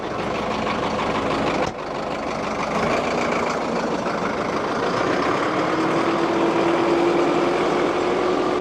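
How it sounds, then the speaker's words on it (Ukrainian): A Solis 75 tractor's heavy four-cylinder turbocharged diesel engine rumbles loudly and close, with a brief dip early on, then steadies and rises slightly in pitch as it pulls away. "Має 4-циліндровий дизельний двигун з турбонаддувом"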